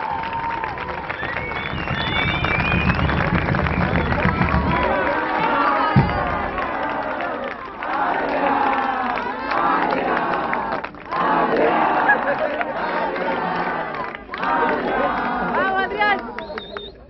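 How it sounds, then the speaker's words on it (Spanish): A lively crowd cheering, shouting and clapping for a technical school's float builders at a town welcome, with loud excited voices and chatter rising in bursts throughout. "un aplauso para la Escuela Técnica de Maimará"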